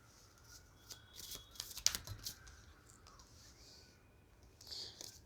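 Tarot cards being shuffled by hand, a run of soft papery riffles and taps at close range with a sharper flick near the middle, faint and without speech.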